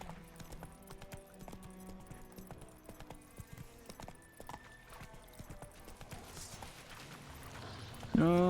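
Roach, the horse in Witcher 3, runs with clear clip-clop hoofbeats over quiet game ambience, the steps irregular at first and then steadier, ending in a louder burst.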